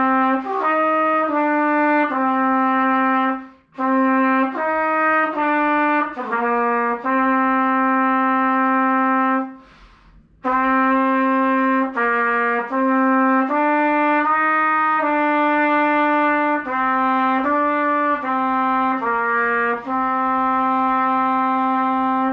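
A trumpet playing the second trumpet part of a school band piece from bar 19: clear sustained notes in a steady rhythmic line, loud and close, with one brief pause midway and no talk.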